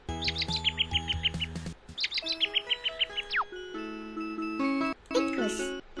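Bright, rapid bird chirps from an educational children's video game, repeating in quick bursts with tonal jingles and musical tones between them, clear and up close with no talk.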